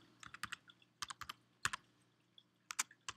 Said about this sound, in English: you just type in